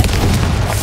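A Confringo spell explosion in Hogwarts Legacy lands as a loud, deep, rumbling boom lasting under a second.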